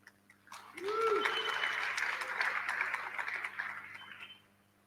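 An audience at an AIDS conference session bursts into applause, swelling quickly to steady, fairly close clapping that holds for a few seconds before dying away, with a brief voice at the start.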